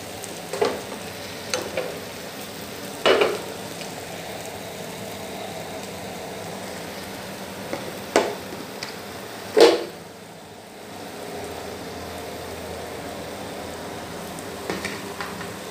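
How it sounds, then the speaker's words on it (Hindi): Gram flour (besan) batter for a cheela fries in hot oil in a pan, a soft continuous sizzle with a few scattered faint clicks and pops, steady and moderately close. "अब हम इसको पकाएंगे, फ्राई करेंगे"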